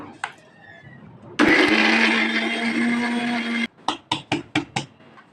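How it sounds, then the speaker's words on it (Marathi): A mixer grinder blends prawn curry masala with a little water under its lid. After a soft tap, a loud steady whir runs for about two seconds, then stops, followed by several quick knocks. No speech. "मिक्सरमध्ये ग्राइंड करायचं"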